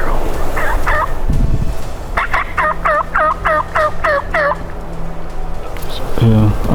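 Wild turkey gobbling during a turkey hunt outdoors, a rapid run of loud, close gobbles rolling one after another over a quiet background.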